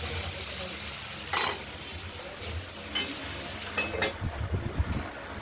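Taro and ridge gourd stirred in a pan, with spoon scrapes and clinks over a gentle sizzle, a few sharper knocks early on and a quicker burst of stirring toward the end.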